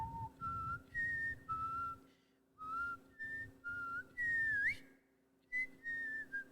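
A person whistles a wavering tune in short phrases with brief pauses, close and clear over a faint steady hum, with no talking.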